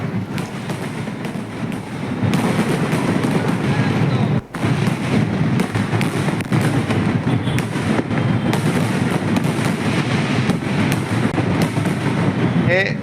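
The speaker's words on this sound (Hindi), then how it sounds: "ये आतिशबाजी की तस्वीरें आप देखिए, मिडिल ईस्ट की तस्वीरें" Fireworks burst during a Diwali celebration in the Middle East, a loud, dense, continuous crackle and boom with one brief drop partway through.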